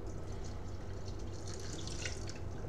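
Water, about 250 ml, poured into a bowl of quinoa and chia seeds while making a protein bread, a steady continuous splashing trickle that runs evenly and fairly faintly throughout.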